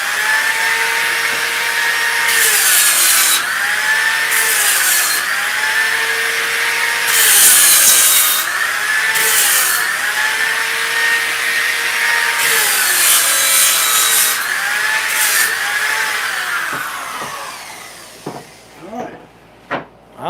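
A power sander works a wooden sign for about seventeen seconds, a loud steady grinding hum that rises and falls in passes, then shuts off and leaves a few faint knocks at the end.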